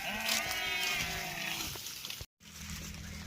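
A sheep in a grazing field gives a single drawn-out bleat close by, then goes quiet after a brief cut, with a low background hum.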